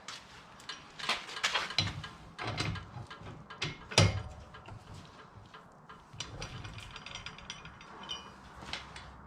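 A wrench working the wheel lug bolts on a Mazda Miata, quick ratcheting clicks in several bursts with a sharp clank partway through, close and fairly quiet.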